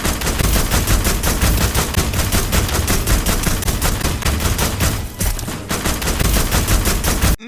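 Gunfire rattles nonstop in The Walking Dead: Destinies video game, rapid loud automatic bursts packed close together, briefly dropping out near the end before resuming, with no talking over it.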